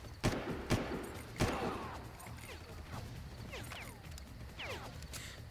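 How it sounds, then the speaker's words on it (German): Several sharp gunshots crack early on in the video game Far Cry, followed by quieter whooshing and mechanical game sounds at a distance. "Wo kommen denn die Schüsse jetzt schon wieder?"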